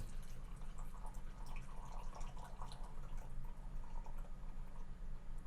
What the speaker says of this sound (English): this is the slowest pouring kettle, I swear